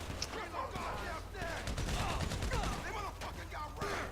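Scattered gunshots and volleys of gunfire during a GTA V online mission, fairly quiet and mixed with busy game sound effects.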